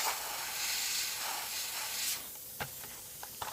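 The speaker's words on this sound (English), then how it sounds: "Only very lightly with the airbrush." Light bursts from an airbrush misting paint onto a model as weathering: a steady broad hiss for about two seconds, then stops, followed by a few short faint puffs, with no talking.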